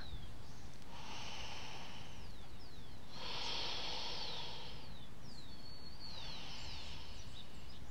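Slow, deep exhalations during yoga breathing, three long airy breaths spaced a few seconds apart, close and fairly soft, with faint chirps in the background.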